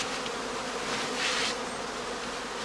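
Honeybees in heather straw skeps at an apiary during swarming season make a close, dense, steady buzzing hum, alone and without pause.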